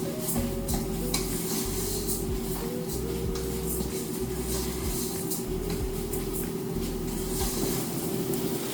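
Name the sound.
sautéing rice with onion and garlic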